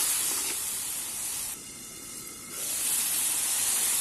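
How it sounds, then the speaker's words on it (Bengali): A spice paste of turmeric, chili and salt fries in oil, giving a loud, steady hiss that dips briefly in the middle as it is stirred, then returns at full strength. "এবার ভালোভাবে নাড়াচাড়া করে খুব সুন্দর করে কষা নিয়ে তারপরে তরকারিগুলো দিয়ে দিন।"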